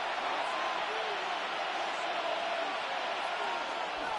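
Steady stadium crowd roar from a Madden 26 simulated NFL game, Jacksonville Jaguars at Minnesota Vikings, a dense continuous wash of noise throughout with a commentator's voice faintly over it.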